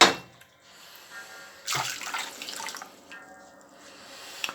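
Water runs and splashes into a kitchen sink during rinsing after scrubbing with a scourer, coming in uneven bursts with drips and clatter, moderately close with no talking.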